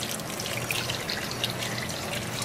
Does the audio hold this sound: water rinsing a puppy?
yes